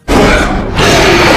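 Tyrannosaurus Rex roar in the video game Jurassic World Evolution 2, a loud, deep, rumbling blast that starts abruptly, dips briefly and then swells again, filling the whole short moment.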